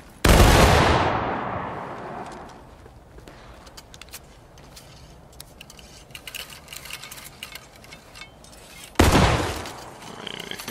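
A massed musket volley fires in the War of Rights video game, a loud crashing burst that rolls away into scattered distant shots and a second sharp volley near the end.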